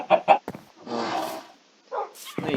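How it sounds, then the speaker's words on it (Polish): Dog barking in a Minecraft server world: a couple of short close barks, then a longer rough noisy burst and a few more brief cries, fairly loud with no talk over them. "tu są jego zwierzęta, papuga i pies"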